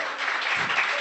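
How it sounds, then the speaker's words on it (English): A short, dense wash of audience applause at an Amway event, loud and even throughout, with no voices over it. "Give Nazli a round of applause."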